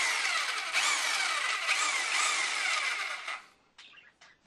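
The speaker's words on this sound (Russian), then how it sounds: "И пробуем посмотреть, как же оно будет сверлить." A Dnipro-M PE-2611B rotary hammer drill whines loudly and steadily for about three seconds, then winds down and stops, followed by a few faint clicks and knocks.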